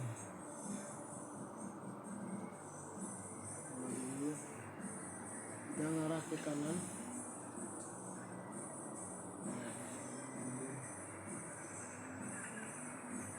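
A train rolls along the rails with steady rumbling and brief wheel squeals, entering track 2, while a person speaks briefly over the noise.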